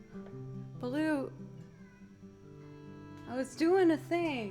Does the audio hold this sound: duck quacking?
no